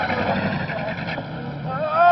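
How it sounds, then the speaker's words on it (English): A boat engine starts and runs in the 1953 film Beneath the 12 Mile Reef, a loud, rough motor drone that holds steady and swells slightly toward the end. "I start the engine quick."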